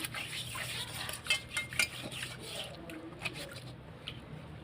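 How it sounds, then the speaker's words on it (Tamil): Lemon and paste being rubbed over an iron kadai, giving soft scrubbing and squishing with a few light metallic clinks, close and fairly quiet, with no voice. "இதில் கொஞ்சம் பேஸ்ட்டு தேய்ச்சிருக்கேன். இந்த லெமனை வச்சு முதல்ல அப்ளை பண்ணிக்கிடுறேன்"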